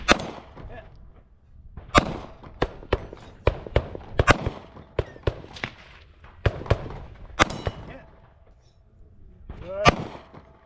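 Pistol shots ring out at a shooting competition stage in the high desert, striking steel popper targets and a spinner: a string of sharp, loud cracks in irregular quick bursts, some followed by metallic pings, with no talk over them.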